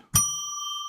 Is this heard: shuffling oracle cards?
no